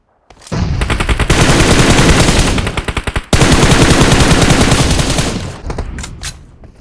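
Sustained automatic gunfire in the mobile battle-royale game PUBG Mobile, loud and close, with long rapid bursts broken by a brief pause and trailing off into a few scattered shots at the end.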